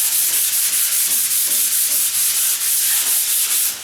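Sanding paper rubs back and forth along a door edge in quick, regular strokes, loud and close, with no talking.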